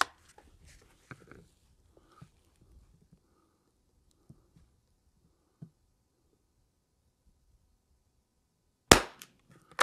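Five rounds of Lapua Long Range 22LR are fired in a quiet setting. The sharp cracks come at uneven intervals across the clip, and the last shot is much louder than the earlier ones.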